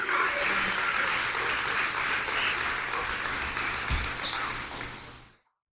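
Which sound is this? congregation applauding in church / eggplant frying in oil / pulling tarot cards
congregation applauding in church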